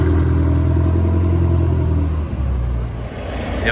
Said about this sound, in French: Wow, le bruit sur cette 488.